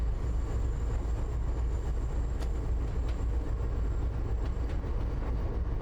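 Steady low rumble of an HSP46 diesel locomotive pulling a geometry train out of Boston toward Worcester in Train Sim World 5, with a continuous engine drone, a faint high whine and occasional soft clicks from the rails.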